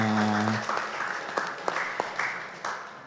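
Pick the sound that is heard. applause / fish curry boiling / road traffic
applause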